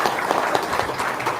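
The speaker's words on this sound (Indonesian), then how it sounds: "Tepuk tangan dulu dong" Applause from an audience at an Indonesian religious gathering: a dense, steady crackle of many hands clapping throughout, with no voices standing out.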